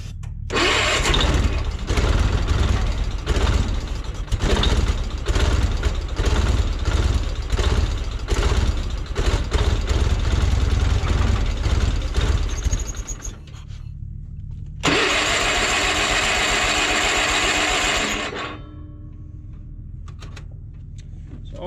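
A Bolens QT16 garden tractor engine, over ten years old and apparently not getting fuel, cranks and runs roughly with loud rhythmic chugging for about thirteen seconds, then a shorter steady burst of running before it drops away.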